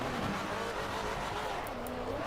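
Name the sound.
Maserati GT4 race car engine, from video game Assetto Corsa Competizione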